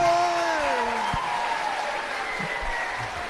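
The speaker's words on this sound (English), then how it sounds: "how about a round of applause for the track owner, Glenn Stiers?" A crowd at Ohsweken Speedway's Night of Champions racing event applauds the track owner, a dense steady wash of clapping that stays loud and fades slightly, with a brief announcer voice at the start.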